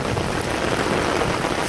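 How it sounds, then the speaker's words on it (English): Heavy rain pours steadily outside a house, a dense, loud hiss of drops drumming on surfaces with no break across the short stretch. "But right now, as I'm about to go out of my house, the rain pours."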